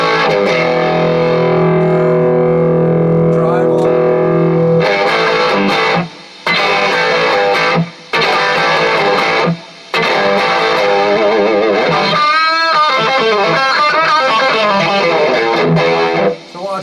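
An electric guitar plays through an amp's lead channel with heavy distortion, delay and reverb in a home studio, giving loud sustained notes and bending lines with short gaps, and no talking.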